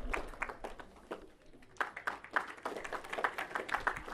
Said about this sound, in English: Let us give him a hand of applause.